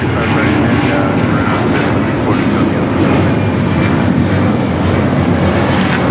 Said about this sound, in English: This flight, Delta 528, taking off to Atlanta on the 757-300.